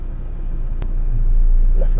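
Car engine idling low and steady while reversing during a three-point turn, a constant close rumble that builds slightly, with a brief click and soft talk over it.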